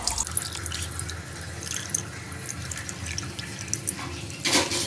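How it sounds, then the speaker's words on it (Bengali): Milk mixed with Ganges water being poured as an offering to Shiva, a close, steady trickle and splash of liquid that ends in a brief louder gush. "ওম নমঃ শিবায় মন্ত্র উচ্চারণ করে আমি দুধটাকে অর্পণ করে দিচ্ছি।"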